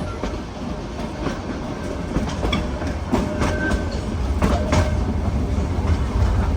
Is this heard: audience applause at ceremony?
no